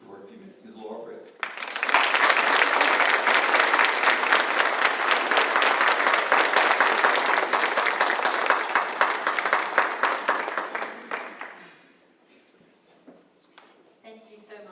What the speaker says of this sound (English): if you will help me give her a resounding applause as she comes up to talk to you for a few minutes